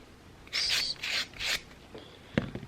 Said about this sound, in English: you just want to use the buffer and it's just like sanding